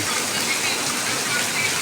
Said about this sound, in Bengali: দেখতে পাচ্ছেন এখন ঝুমঝুমায় বৃষ্টি পড়তেছে